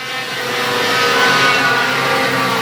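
Race cars pulling away at a green-flag start on a Sunday night oval race, a dense roar of engines swelling and holding loud, heard from the stands with no talk.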